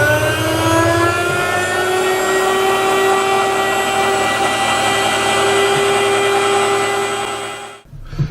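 An Ostba 200W electric meat slicer runs with a loud, steady motor whine and a sustained harmonic hum, then cuts off abruptly near the end.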